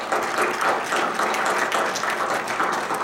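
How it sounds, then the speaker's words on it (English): A seated audience applauds to welcome panelists at an expert panel discussion on the Obama presidency, a steady moderate wash of clapping with no clear breaks throughout. "I'd like to invite you to join me in a round of applause to welcome the panelists"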